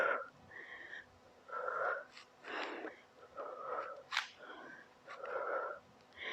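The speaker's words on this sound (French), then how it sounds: "Et on souffle bien. Et vous soufflez." Forceful, rhythmic exhales from someone holding a plank during a home abs workout, about six or seven breathy bursts spaced evenly, fairly faint and close.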